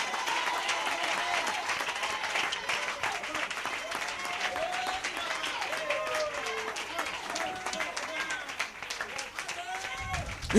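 A church congregation applauds during worship, a dense steady wash of clapping mixed with voices calling out and singing, continuous and fairly loud throughout.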